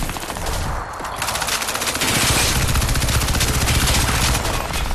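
Loud, rapid bursts of automatic gunfire in the video game Crysis 3, sustained and continuous with a brief lull near the start.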